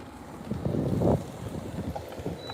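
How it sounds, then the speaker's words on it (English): Wind gusting over open water during a bass fishing trip, a steady low rumble on the microphone with one stronger buffeting surge, out in the open on a boat. "Yes, sir, the wind is bad right now."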